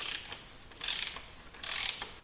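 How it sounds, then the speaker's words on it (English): A ratchet with a 12mm Allen bit loosens an oil filter housing, giving three bursts of rapid, close metallic clicking, each about three-quarters of a second long, with no talk. "we're going to take a 12mm Allen and we're going to loosen up our oil filter"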